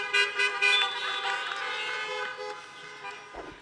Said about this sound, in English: just feel free to honk your horn